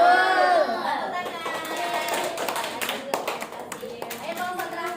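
Children in a classroom clap together in a burst of hand claps, with harmonic young voices calling out at the start and chatter continuing underneath the irregular patter of small hands.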